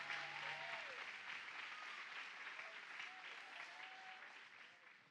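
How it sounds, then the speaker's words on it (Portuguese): A church congregation applauding, a steady wash of many hands clapping at moderate volume that fades slightly toward the end, with a few faint voices calling out underneath. "Se quer aplaudir, aplauda para Jesus"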